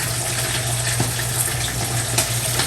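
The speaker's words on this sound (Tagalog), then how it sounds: "Lagyan po natin ng tubig para maluto po itong isda." Water pours steadily into a cooking pot holding a yellowfin fish head seasoned with tomato, chili, salt and pepper, a continuous close gushing splash with no talking.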